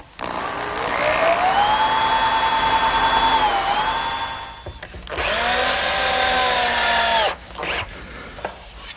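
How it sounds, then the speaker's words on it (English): A cordless power drill drives drywall screws into wood for a picnic table leg, with two long whining bursts that rise in pitch as the screws seat, then a short blip, all close and loud. "pre-drill and then attach the leg with drywall screws"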